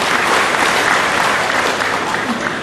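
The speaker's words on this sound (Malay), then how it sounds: "Syafi'i Abdal, Ketua Menteri Negeri Sabah, beri tepuk tangan." Steady, dense applause from a large crowd at a New Year open house reception, loud and continuous throughout, with no break in the clapping.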